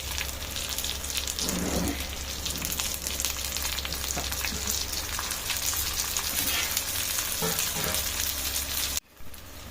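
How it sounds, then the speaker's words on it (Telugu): Pomfret fish shallow fries in a pan, making a loud, steady crackling sizzle with occasional soft scrapes, close up, until it abruptly drops to a quieter hiss at the end. "ఇప్పుడు ఇవి షాలో ఫ్రై చేసుకున్నాం కదా"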